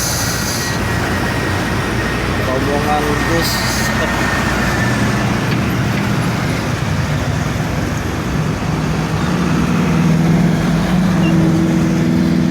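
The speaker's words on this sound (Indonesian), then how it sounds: "Terpantau dari arah Jakarta rombongan bus" A convoy of tour buses carrying sports supporters rolls past on Soekarno Hatta road in Palembang, with a continuous loud engine and road roar and tonal drones from the passing vehicles.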